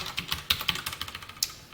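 Light, quick clicking of keys on a computer keyboard, a steady patter of individual taps close to the mic, fairly quiet and with no talking.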